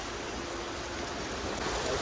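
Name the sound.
heavy rain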